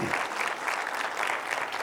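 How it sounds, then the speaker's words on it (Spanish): An audience at a parenting school session applauds pregnant women, with continuous, even clapping from a sizable crowd filling the whole moment. "Denles un aplauso a las embarazadas."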